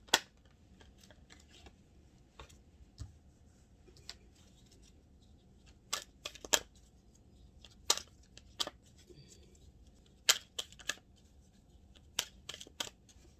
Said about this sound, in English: I'm going to lay down your cards, and then I'm going to do the reading